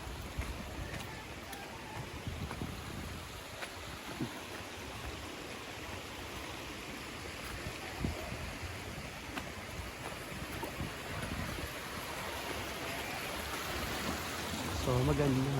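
River water flows steadily at Hinaguan, a broad continuous wash of moving water heard up close for the whole stretch, with occasional faint voices in the background.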